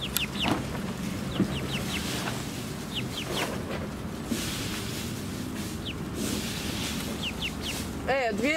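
Young roosters clucking and giving short calls while grazing on grass in a greenhouse, scattered and intermittent over a steady low background hum, with a louder crowing burst near the end.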